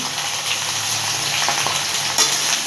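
Okra and potato with turmeric and salt fry in a pan, a dense steady sizzle close up, broken by a few soft stirring scrapes and one sharper clack near the end.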